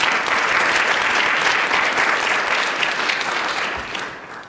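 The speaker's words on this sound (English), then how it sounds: "one more round of applause." A large conference audience at a hepatitis C diagnostic summit applauds in a dense, steady wash of clapping that fills the whole stretch and tapers slightly toward the end.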